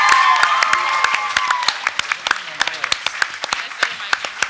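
An audience bursts into applause, dense clapping at first that thins into scattered individual claps, with a few cheers mixed in.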